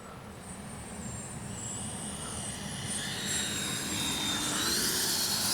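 A Freewing 90mm T-45 RC jet makes a low pass with no gear and no flaps. Its ducted-fan roar builds steadily and grows louder and higher as the jet closes in.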